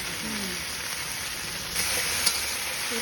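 Okra (bhindi) frying in a pan at a shop, a steady close sizzle with soft crackling throughout, moderately loud with no talking.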